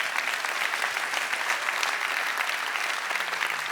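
Sustained audience applause at a political summit, a dense steady wash of many hands clapping at even loudness for the full length, with no voices over it.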